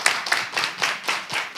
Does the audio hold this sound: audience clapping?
yes